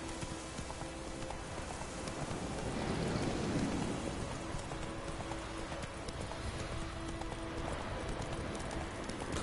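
Roach, a horse in a video game, trots with steady clip-clop hoofbeats throughout, over a constant wash of ambient noise with a low rumble; no one speaks.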